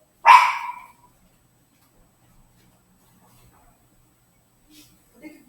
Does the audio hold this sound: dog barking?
yes